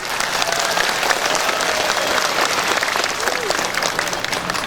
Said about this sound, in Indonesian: karena tepuk tangan tadi kan